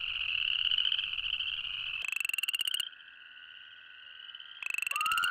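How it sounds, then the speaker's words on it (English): A tiny chorus frog calls in a wetland during mating season, a loud, close rapid trill repeated in bursts with brief pauses, heard alone with no talk. "It should come from a beast of a frog with mighty lungs, but instead, it's the tiny chorus frog,"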